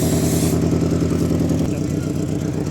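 A car engine idles steadily with a low, throbbing exhaust rumble through an intact muffler, close by and continuous throughout.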